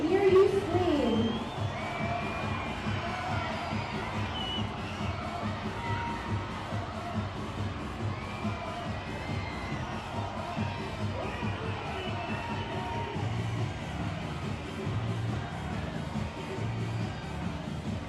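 A baseball stadium crowd at a Long Island Ducks versus Somerset Patriots game screams and cheers for a t-shirt toss, a sustained roar of shouting fans with whoops rising throughout.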